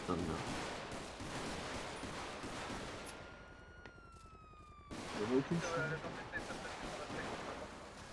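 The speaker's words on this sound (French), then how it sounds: "Je vois ça tire au niveau de la montagne" Gunfire in a GTA roleplay game near a mountain, a steady crackle of rapid shots with a brief lull and a sweeping siren-like tone, fairly faint beneath background noise.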